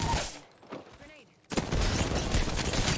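Rapid gunfire in a shooter video game, a loud sustained burst of automatic fire after a quieter stretch of scattered shots and game effects, with a voice in the mix.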